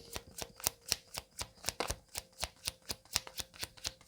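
Tarot cards being handled and shuffled, a quick, regular run of crisp riffling slaps, about a dozen in a row, close and fairly quiet with no talking.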